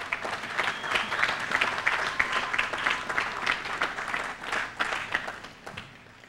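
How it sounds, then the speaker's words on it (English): Audience at a California bridge opening ceremony applauding steadily, a sustained wash of clapping from a crowd at moderate distance. "Give yourself a round of applause."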